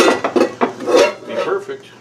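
Cooked meatballs are moved into a pot, making loud close clanks and scrapes of a metal utensil against cookware in several quick bursts, with no talk.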